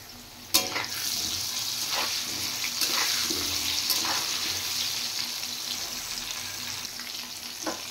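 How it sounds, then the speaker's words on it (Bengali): Potatoes frying in hot oil for a mutton curry give a continuous crackling sizzle, with a sharp clatter near the start and a few stirring knocks along the way. "মাংস রান্না করার জন্য প্রথমে আমি আলু ভেজে নিচ্ছি"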